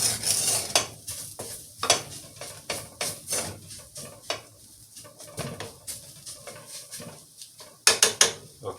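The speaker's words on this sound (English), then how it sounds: "Now we're going to give it a nice stirring." Seasoned chicken empanada filling stirred in a hot pan, with repeated scraping strokes of a utensil against the pan over a soft sizzle, close and fairly loud, uneven rhythm throughout.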